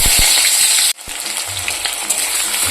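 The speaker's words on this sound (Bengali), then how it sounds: "এবার দিয়ে দেব কুচনো পেঁয়াজ।" Chopped onions frying in a pan while Tengra fish is being cooked meat-style, giving a steady close sizzle that starts after a brief gap and continues with faint stirring scrapes.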